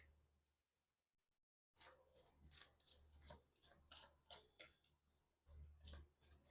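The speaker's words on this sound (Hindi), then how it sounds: "मैं कर लेती हूँ कार्ड की शफलिंग।" Tarot cards being shuffled by hand, a run of quick papery riffles and snaps in close bursts after a silent opening, pausing briefly before another flurry.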